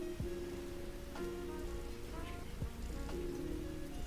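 Soft, steady rain patters in the background, quiet and continuous, with faint music tones drifting over it.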